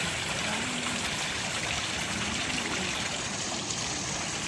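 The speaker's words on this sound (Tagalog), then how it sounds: "May fountain. Nagka-fountain siya." An outdoor fountain pours water in a steady, close, continuous rush with an even splashing hiss and no pauses, no voices.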